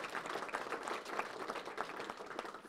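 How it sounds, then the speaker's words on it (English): Audience applause fills the room at a wildland fire preparation community meeting, steady, fairly distant clapping from a crowd over a few seconds. "Round of applause for Captain Campos for putting this together"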